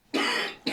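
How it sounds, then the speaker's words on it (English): A man coughs twice in quick succession, a harsh, raspy first cough followed by a shorter second one, close and alone. "Tom's coughing his guts up."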